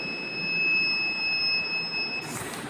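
Continuous high-pitched electronic tone from the alarm of a school-project landmine-detecting shoe, holding steady for over two seconds over a broadband hiss, then cutting off near the end.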